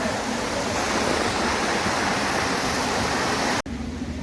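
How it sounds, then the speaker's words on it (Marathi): Continuous rushing roar of a waterfall, broad and steady, cutting off abruptly near the end before resuming more faintly. "वॉटरफॉल खूप छान आहे"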